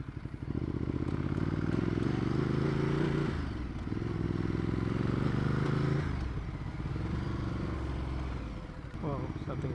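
Motorcycle riding with a chain-related fault, its engine droning loud and close with steady harmonic whine, briefly dropping and resuming, carrying a rough clattering, scraping undertone.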